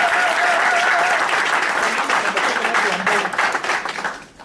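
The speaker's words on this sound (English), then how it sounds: "everyone that went before me deserves a very, very warm round of applause" Warm applause from an audience at a professional networking business talk, dense clapping that holds steady and then thins out and fades toward the end.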